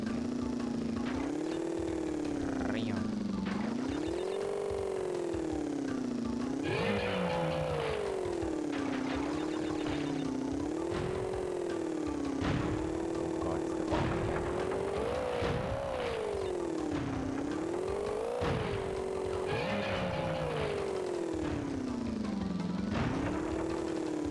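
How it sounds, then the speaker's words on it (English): Crash Bandicoot 3: Warped watermobile engine drones steadily throughout, its pitch rising and falling in smooth waves as the jet ski speeds along, with splashy bursts layered over the continuous game audio. "We're about to ride some watermobile again"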